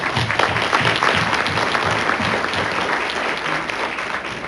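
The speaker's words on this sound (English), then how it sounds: "How about a round of applause for our veterans?" A crowd at a shareholder meeting applauds veterans with steady, dense clapping that fills the room at full volume throughout and gradually thins slightly near the end.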